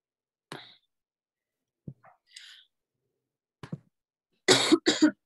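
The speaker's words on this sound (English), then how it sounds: "Oh, you have a cough?" A person gives a few short, isolated coughs and throat-clearing sounds in a quiet room during a group reading, spaced apart, ending in two louder, harsher coughs close together.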